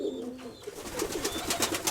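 Pigeons, including a pair of rock pigeons, cooing nearby, soft repeated throaty coos over a faint background.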